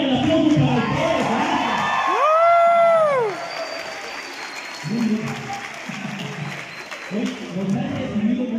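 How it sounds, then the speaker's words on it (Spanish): A crowd applauds, cheers and whoops at a gathering, loud and sustained, with shouted voices and a rising-falling whistle or cheer sweeping through the middle of the noise. "¡Menos el aplauso para ustedes!"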